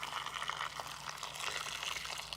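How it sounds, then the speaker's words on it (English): Boiling water poured over tamarillos to blanch them, a steady close-up wash of liquid running and splashing throughout, with no voices. "I just cover them with boiling water and bring that to the boil just for a couple of minutes"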